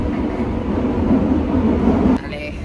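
Rumbling interior of a crowded metro train, steady loud broadband noise with murmuring passengers, dropping slightly in level near the end as the ride continues.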